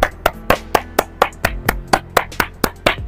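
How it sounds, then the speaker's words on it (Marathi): One person claps in a steady exercise rhythm, about a dozen sharp, close hand claps evenly spaced roughly a quarter second apart. "हे झालं, पुन्हा टाळ्या वाजवा."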